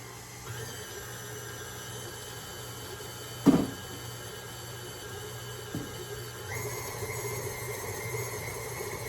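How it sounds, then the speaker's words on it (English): A stand mixer churns chocolate chip cookie dough with a steady whirring motor hum, broken by a sharp knock partway through and a brighter, louder whine in the last few seconds. "I literally just mean mix it in the mixer until it's together"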